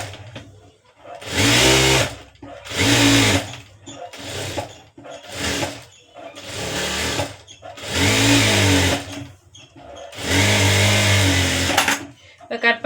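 A sewing machine stitches the lining around a puff sleeve in repeated bursts of whirring, each run lasting about a second with short pauses between them, loud and close.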